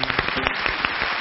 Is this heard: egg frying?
no